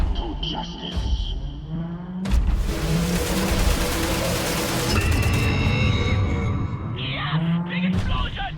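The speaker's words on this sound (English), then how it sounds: "Big explosion! USA style!" Wolfenstein: The New Order combat erupts in a heavy explosion followed by rumbling debris and bursts of gunfire, loud and continuous, with voices shouting over the battle.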